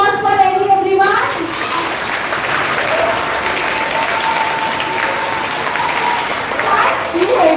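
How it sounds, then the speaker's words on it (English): In a school hall at Lakshdham High School, a brief spoken line gives way to sustained audience applause, a loud, even burst of clapping from a crowd that continues for several seconds. "Can we have a big round of applause for Ellie, everyone?"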